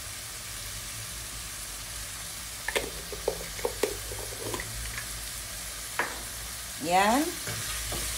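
Sautéing in a pan with ginger powder, shrimp cubes going in: a steady frying sizzle runs throughout with scattered utensil clicks and scrapes, then a louder swishing stir near the end. A brief word is spoken.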